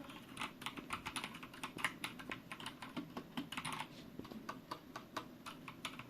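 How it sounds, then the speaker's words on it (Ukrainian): Fast, steady clicking of keys on a Hator Rockfall Evo optical-mechanical keyboard with black switches, close up and fairly quiet, the keystrokes coming in brisk uneven bursts with no voices. "і це Hator Rockfall Evo на чорних оптикомеханічних свічах. порівнянні з минулою механікою від Ergo, це просто небо та земля, тихий та плавний хід клавіш"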